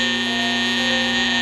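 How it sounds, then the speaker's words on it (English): A steady, piercing electronic tone with strong harmonic bands sounds continuously and loudly, with no break, a smoke alarm blaring nearby. "that's when the smoke alarm went off"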